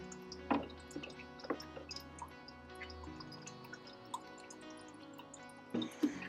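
Water drips and splashes faintly onto moss and house plants during an indoor watering routine, with a few brief soft drops spaced apart over a quiet background hum.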